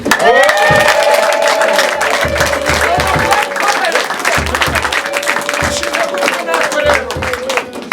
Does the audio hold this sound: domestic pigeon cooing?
no